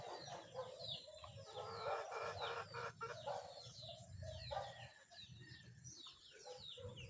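Chickens in a small backyard poultry coop cluck and chatter continuously, several birds close by with busy overlapping calls and faint sweeping noises underneath.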